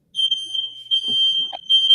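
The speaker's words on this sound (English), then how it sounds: "My fire alarm's going off." A household smoke alarm beeping with a loud, steady high-pitched electronic tone, nearly continuous with brief dips, as a voice speaks faintly beneath it.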